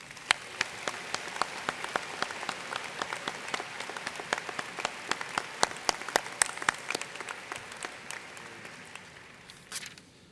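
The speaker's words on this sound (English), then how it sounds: "Please join me as we applaud their support of and dedication to the success of our students" A commencement audience at Harpur College of Arts and Sciences applauds the faculty in steady, sustained clapping from a large crowd, with crisp individual claps throughout, tapering off near the end.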